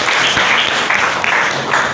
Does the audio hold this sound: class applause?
yes